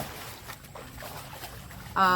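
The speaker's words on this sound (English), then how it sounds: "So if you hear, if you hear splashing, that's her." A child splashes in a backyard swimming pool, soft scattered sloshes and trickles in the background, with a louder burst of talk at the end.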